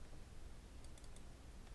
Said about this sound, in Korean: 더블 클릭.